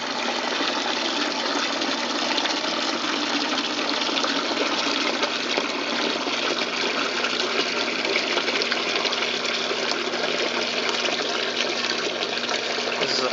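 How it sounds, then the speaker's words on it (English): Water gushes steadily from the unscrewed drain pump filter of a Maytag 2000 / Whirlpool Duet Sport front-load washer into a 5-gallon bucket, a loud continuous splashing pour without pause. "You unscrew this way and have a bucket ready to catch all the water that comes out."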